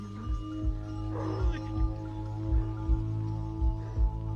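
Dogs barking in a horror video game, a series of short, fairly loud barks and yips spaced out at an irregular rhythm over a steady droning game soundtrack.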